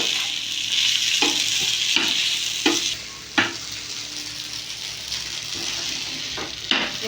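A spoon stirs cheese pasta in a pan over a soft, steady sizzle, with a handful of scraping knocks against the pan spaced irregularly through the clip.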